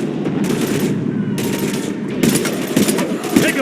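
Rapid automatic gunfire rattles in a Mass Effect 3 battle against husks, coming in dense bursts that grow heavier toward the end, with shouted voices mixed in.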